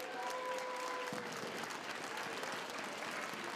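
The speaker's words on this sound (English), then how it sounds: "Can we give our teachers a round of applause?" An audience applauds the teachers at an elementary school Chinese Lunar New Year celebration, dense steady clapping filling the room, with a brief voice heard at the start.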